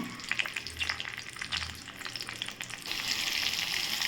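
Mustard seeds and onion fry in hot oil for a chutney, a close crackling sizzle with stirring that swells into a louder, brighter hiss partway through.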